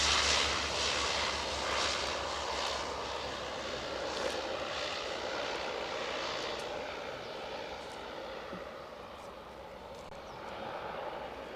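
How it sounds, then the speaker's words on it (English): A Beechcraft propeller aircraft at East Midlands Airport drones steadily at a distance, its engine hum sustained and fairly faint against the open night air. "this might be a Beechcraft or something"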